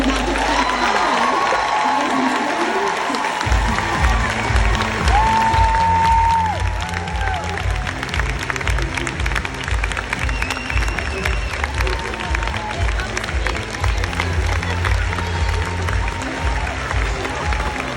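A room full of people rise to their feet and burst into loud, sustained cheering and applause, a dense roar of clapping and whoops that swells early and carries steadily, with music pulsing underneath throughout.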